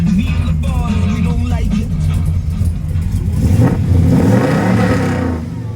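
A restored 1972 Chevrolet Chevelle with a fuel-injected engine runs with a loud, steady rumble close by, then builds into a stronger rev before easing off.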